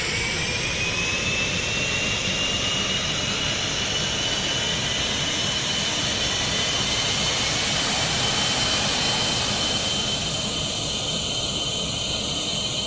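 Steady, loud jet engine roar of an F-117 Nighthawk in the Roblox game Aeronautica, with a high whine held throughout, a continuous rumbling drone with no pauses.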